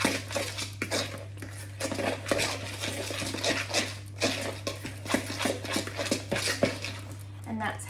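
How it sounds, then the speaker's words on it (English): A banana muffin batter is stirred in a mixing bowl, a steady run of close scraping and clinking of a utensil against the bowl, with a constant low hum underneath and no talking. "I'm going to give that a big mix up."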